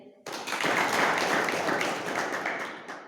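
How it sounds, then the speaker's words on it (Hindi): A crowd at a Bhim Army education campaign gathering in Kharliya breaks into clapping for itself, the applause starting abruptly and then holding as a thick, even wash of hands that fades slightly at the end. "एक बार आप स्वयं के लिए ज़रूर तालियां बजाएं"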